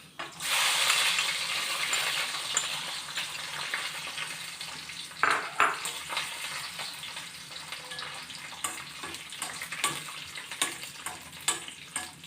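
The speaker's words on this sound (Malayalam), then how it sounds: "അതേ നെയ്യിലേക്ക് നമുക്ക് ക്യാഷ് ഇട്ട് കൊടുക്കാം" Cashews fry in ghee in a hot clay pot, giving a soft close sizzle with a louder rush at the start and scattered clinks and scrapes of stirring throughout.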